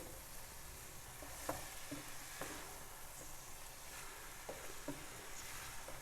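Spaghetti mixture is stirred in a frying pan, giving a faint, steady sizzle broken by a few soft scrapes and clicks of the spoon against the pan.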